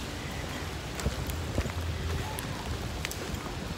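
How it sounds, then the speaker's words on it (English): Rain beats down hard on a glass window, a steady dense patter with scattered sharper drops tapping close by throughout. "I just love the sound of the rain beating down on the glass, on the window."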